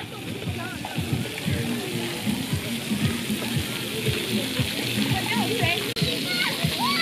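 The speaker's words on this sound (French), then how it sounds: "Alors, on va aller dans les jeux d'eau." Busy children's splash pad with water spraying and splashing steadily, crowded with kids' voices and chatter mixed throughout, continuous and fairly close.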